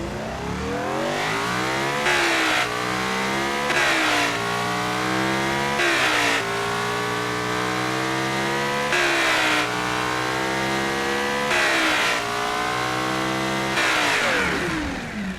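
A tuned engine on a stock crankshaft, pistons and connecting rods revs in close, loud bursts, climbing sharply again and again with crisp throttle response before settling back between pulls, with no speech.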